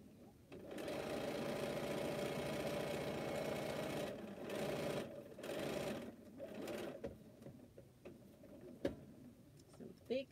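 Domestic sewing machine stitching through thick quilt seams, a steady fast mechanical whir for several seconds that stalls and stutters into uneven bursts, with someone talking over it.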